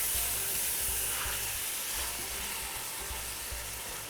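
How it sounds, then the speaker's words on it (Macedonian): Close, steady sizzling of Romani turlija stew frying in oil in a pan while it is stirred, a continuous crackle that fades slightly over a few seconds with no voices. "Промешувам."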